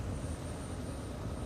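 A steady, droning helicopter engine and rotor rumble, even and unbroken, heavy in the low end with no voices over it.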